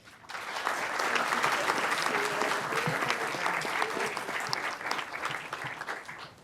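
A conference audience at a community banking event applauds to welcome keynote speaker Jelena McWilliams, with sustained, dense clapping from many hands that swells quickly and tapers slightly near the end.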